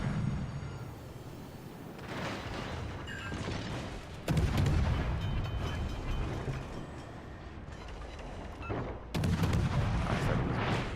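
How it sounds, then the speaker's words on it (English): Naval guns boom repeatedly in World of Warships: Legends, heavy blasts landing every few seconds over a steady rumble of sea and engines, loud and close. "He's still shooting."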